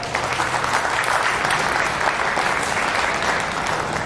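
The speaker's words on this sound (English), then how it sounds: "Let's give all these Holstein exhibitors today a big round of applause." Sustained applause from a county fair crowd for Holstein dairy exhibitors at a steer show ring, steady and dense clapping throughout with no break.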